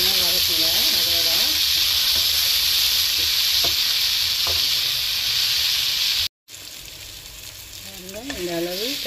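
Brinjal sautéing in hot oil in a pan for shark fish curry gives a loud, steady, close sizzle with stirring scrapes. A brief cut drops the sound out, and the sizzle then resumes with some whining tonal squeals.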